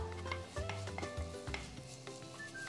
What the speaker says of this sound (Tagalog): Igisa na ang 1 kutsarang bawang.